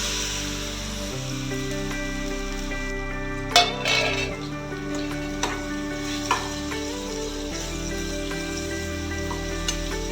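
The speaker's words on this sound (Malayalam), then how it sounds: "2 ബനാന ഇത് ഞാൻ ഈ വറുത്ത നെയ്യിലേക്ക് തന്നെ ഇടുന്നു" Two bananas fry in ghee with a soft, steady sizzle beneath background music, broken by a few sharp clinks of a utensil against the pan.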